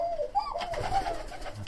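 Sivas turtle doves in a dove coop give a short, close cooing call, a soft warbling phrase rising and falling once over a brief moment.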